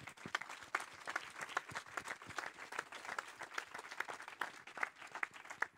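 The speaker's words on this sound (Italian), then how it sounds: "con un caloroso applauso" Sustained applause for hospital health workers, dense rapid clapping that holds steady throughout without any voices standing out.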